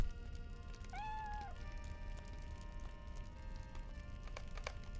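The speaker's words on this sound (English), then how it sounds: "And a cat." A cat meows once in The Lord of the Rings Online, a short rising-and-falling call over quiet game ambience, followed by a few faint clicks.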